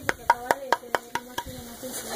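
Knocking on a hollow object at a surprise birthday party in a house: eight quick, evenly spaced close raps with a hollow ring, fairly faint, with no talking over them.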